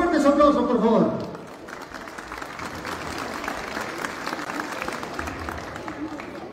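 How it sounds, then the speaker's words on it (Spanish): At a school inauguration, a voice speaks briefly before the audience breaks into sustained applause, a steady crowd of clapping that continues to the end. "Lo vamos a recibir con fuertes aplausos, por favor."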